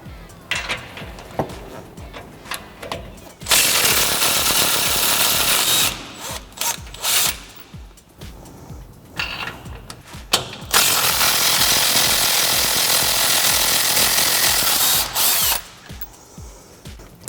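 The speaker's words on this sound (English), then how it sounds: "I'm going to take my 15mm, my 3/8 gun, loosen these up, then loosen the other side up" A 3/8-inch impact gun loosens 15mm sway bar nuts on a Ford F-250 front end: two long, loud, continuous rattling bursts of hammering, with shorter bursts and quieter mechanical clatter between them.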